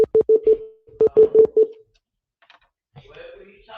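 Rapid electronic beeps, like Morse code, cut into a live stream in two quick bursts of evenly pitched tones, then fall silent before a brief murmur of a voice at the end.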